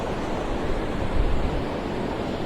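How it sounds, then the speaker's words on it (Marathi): Sea waves break and wash up on Versova beach at night as a dense, steady roar of surf mixed with wind buffeting the microphone, with a slightly louder surge midway and no talking. "ही सगळ्यात मोठी लाट आहे यार, कुठपर्यंत आली बघा इथपर्यंत"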